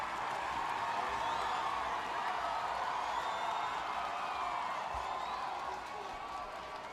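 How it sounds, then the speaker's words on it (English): A home crowd of Vanuatu fans at a women's football match against Fiji at the Pacific Mini Games 2017 makes a steady, broad roar of cheering that fills the whole stretch, with a commentator talking faintly over it. "this Vanuatu crowd want the goal before they take a break here"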